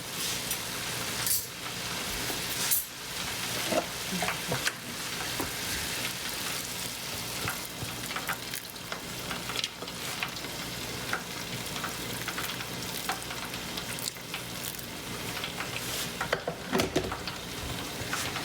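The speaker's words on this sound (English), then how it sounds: "So I think I can add a little bit more water" Steady sizzling and bubbling from a hot pan of pancit noodles with water being added, with occasional stirring clatter, continuous and moderately loud with no talking.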